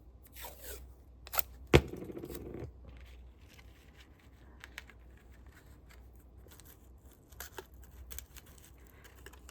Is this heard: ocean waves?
no